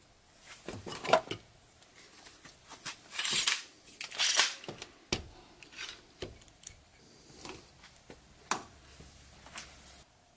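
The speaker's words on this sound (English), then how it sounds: "And then we'll clamp this in place." Scattered clicks, scrapes and knocks of clamps being tightened onto a wooden box-corner spline jig, quiet and close, with a couple of sharper bursts in the middle.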